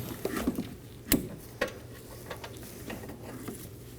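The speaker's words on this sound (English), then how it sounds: "And remove the bolt." Mechanic working on the engine mount of a 2014-2023 Ford Transit Connect with a 2.5L four-cylinder, a tool ratcheting and clicking against the bolt in a few sharp, spaced metallic ticks.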